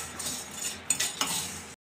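Metal utensil scraping and clinking in a pan as golden fried Maggi noodles are lifted out, with a soft background sizzle and a few sharp clinks, close and alone, ending abruptly.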